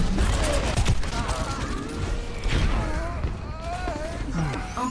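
Weapons fire in the Overwatch video game, with rockets, bullets and grenade launchers going off, sounds as a dense, continuous barrage of blasts and booms, loud and busy throughout with overlapping explosions.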